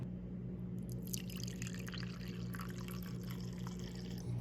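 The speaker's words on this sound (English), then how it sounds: "you can just take the filter off and pour a cup of coffee" Coffee from a Chemex pour-over brewer is poured into a cup, a soft steady trickle and splash of liquid, close but quiet, with no talking.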